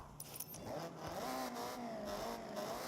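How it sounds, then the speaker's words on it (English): Revving of a Nissan S13's SR20 engine with the clutch held in, in the Forza Horizon 6 racing game, a steady sustained engine tone rising and wavering in pitch, loud and continuous throughout. "That's just me revving while holding the clutch."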